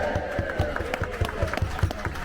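Cruise ship passengers in a dining venue cheer and clap in a dense, lively crowd burst lasting a couple of seconds, with scattered whoops over steady applause.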